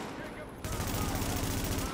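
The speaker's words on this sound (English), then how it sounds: "Wow, this thing's shooting at me." Sustained enemy gunfire in The Division during the Charles Bliss fight, a dense rapid burst of shots starting after a quieter half-second and continuing loud and steady to the end.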